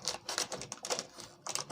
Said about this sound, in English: I will wrap with this electrical tape, so to make it safe